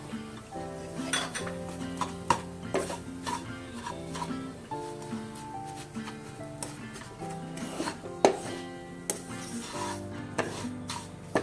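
Coconut and sugar being stirred in ghee in a pan with the gas turned off: repeated spoon scrapes and light metallic clinks against the pan over soft background music.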